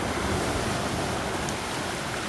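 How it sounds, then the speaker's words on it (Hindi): Sea waves wash steadily onto Kovalam Beach in Kerala, a continuous broadband surf wash close by with light wind and no talking. "बार बार पानी आ जा रहा है।"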